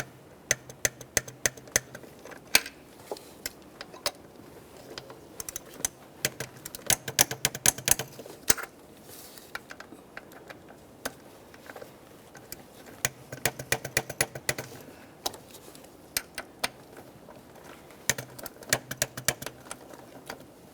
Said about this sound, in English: Torque these to that 60 inch-pounds.